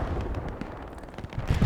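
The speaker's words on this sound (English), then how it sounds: "DC running three artillery guns right now." Artillery guns fire in the World War II shooter Hell Let Loose, a steady rumble of distant booms and gunfire rolling through the battlefield with no voices over it.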